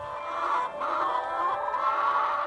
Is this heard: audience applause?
no